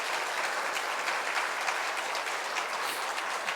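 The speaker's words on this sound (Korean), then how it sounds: "함께 큰 박수로 함께 우리 영광스러운 은퇴를 축복하겠습니다" A church congregation at a Sunday service applauds to honour retirees, producing a dense, even wash of clapping that stays steady and full throughout without a break.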